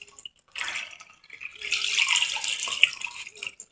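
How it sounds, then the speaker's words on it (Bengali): Sandy fish rinsed in water in a village setting, with splashing and sloshing that start after a short quiet moment and then run steadily close by, plus a few drips. "আর মাছটা বালু অনেক, কয়েকটা ধোয়া দিতে হবে, নাহলে বালু যাবে না।"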